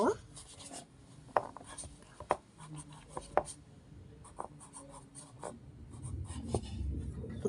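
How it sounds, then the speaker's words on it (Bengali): Pen strokes scratching across paper as a child's Bangla lesson is copied out, with short sharp scribbles and taps repeating irregularly, close up, while a voice talks off and on over a low room murmur. "আমরা লিখব"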